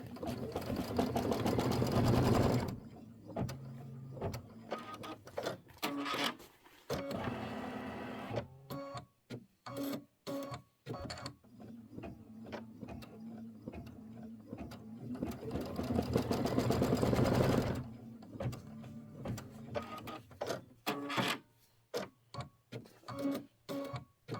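An embroidery machine stitches quilt guideline stitches in rapid, loud mechanical bursts, pausing briefly between runs and then restarting, with no talking.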